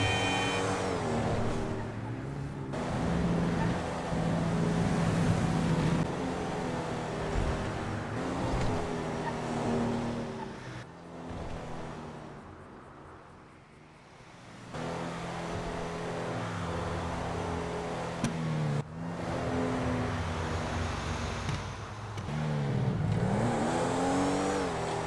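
Engine noise from a car in Grand Theft Auto V, driving steadily with repeated revs rising and falling over about 25 seconds, loud and continuous with a brief quieter dip midway.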